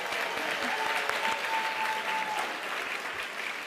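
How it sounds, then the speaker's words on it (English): A ballroom gala crowd applauds, many hands clapping in a dense, continuous wash that holds steady from start to finish, with a faint voice briefly audible beneath. "Give yourself a round of applause."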